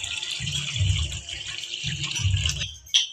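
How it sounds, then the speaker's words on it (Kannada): Water poured into a steamer pot while preparing egg momos, a steady splashing gush in two long bursts, fairly close, that stops abruptly near the end with a brief clink after. "ಇದಕ್ಕೆ ಸ್ವಲ್ಪ ನೀರು ಹಾಕಿ ಇಟ್ಕೋತೀನಿ."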